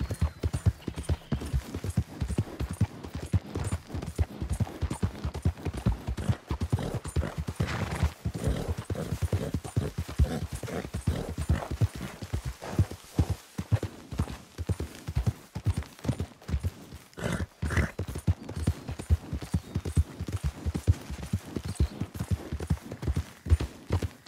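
Horse hooves pound in a fast, steady gallop across ground in Red Dead Redemption 2, a continuous rhythmic drumming of close clip-clop beats with occasional snorts, running without pause for the whole stretch.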